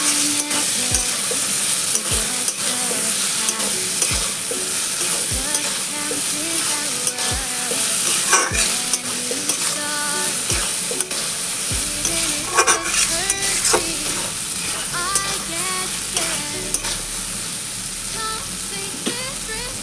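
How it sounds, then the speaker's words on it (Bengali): Ridge gourd and potato being stir-fried in a pan with poppy seed paste, a loud continuous sizzle broken by regular sharp spatula scrapes and knocks against the pan. "এবার একটু ভালো করে কষিয়ে নেব।"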